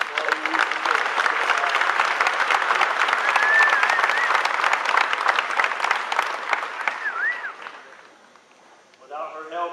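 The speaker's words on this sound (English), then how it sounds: "I think it's fitting that we give Ms. Parrott a round of applause." Sustained applause from a graduation ceremony audience fills the hall for about eight seconds, steady dense clapping with some cheering voices, then fading as a speaker begins talking.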